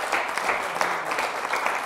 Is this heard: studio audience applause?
yes